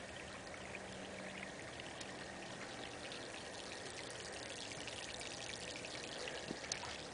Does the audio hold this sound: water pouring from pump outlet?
yes